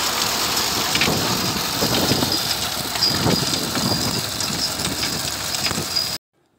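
Engine-driven stone-picking cart working in a farm field, a steady, loud mechanical rumble with rattling clatter running throughout before cutting off abruptly.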